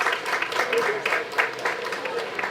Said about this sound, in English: I think you deserve to clap for yourself.